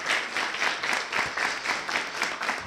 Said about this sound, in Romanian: Haideți să-i aplaudăm, mulțumim frumos.